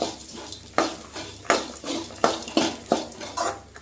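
Grated coconut is stirred in a pan over a low flame, with a regular rhythm of spatula scrapes and knocks against metal every half second or so over a soft sizzle, close by.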